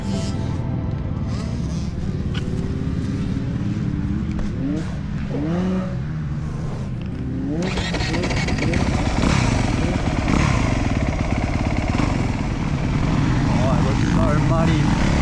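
A Honda CRF250R motocross bike riding a muddy track, its engine revving and shifting continuously with rising and falling pitch, close and loud throughout, growing harsher and louder in the second half.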